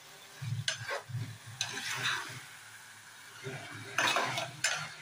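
Chicken curry being stirred in a pan, a spoon scraping and knocking against the metal in a steady rhythm over a soft sizzle, close and fairly quiet with no talking.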